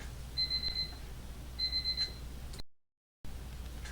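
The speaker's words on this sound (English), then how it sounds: "That was my medicine alarm." A medicine reminder alarm beeps in two short bursts of rapid high electronic pips, faint against quiet room background, followed by a brief cut to silence.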